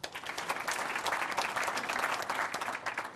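An audience applauds with a dense, steady wash of clapping that holds throughout without letting up.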